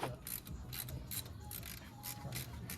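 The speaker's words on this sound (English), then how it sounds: "Ratchet them out." A ratchet clicks in quick repeated bursts while backing out the 7mm hex slider pins on a 2015 Dacia Duster front brake caliper, faint and close with a rapid rhythmic pawl clatter.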